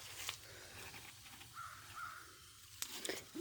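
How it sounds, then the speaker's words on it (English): A few crow caws ring out at a distance over low outdoor background noise, with sharp clicks near the end. "I don't like hearing those crows."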